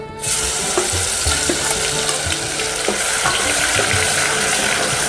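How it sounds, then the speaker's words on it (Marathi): Garlic and ginger drop into hot oil, setting off a loud, steady, hissing sizzle that holds close and continuous from a sudden start, with faint clinks underneath and no talking. "तेल गरम झालेलं आहे लसण अद्रक टाकून घेऊ"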